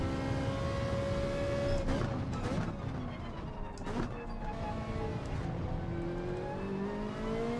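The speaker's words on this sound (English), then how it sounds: "there goes the Ferrari" A Ferrari race car in Gran Turismo 7 at Brands Hatch, its engine whining at high revs as it passes, the pitch sweeping up and down over a steady droning background of other cars.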